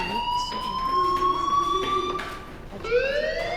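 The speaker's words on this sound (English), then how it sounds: "Hey, do you hear that fire alarm?" Fire alarm ringing in the video game Life Is Strange, a steady sustained electronic tone that wavers slightly, breaks briefly, then resumes, fairly loud with no talking.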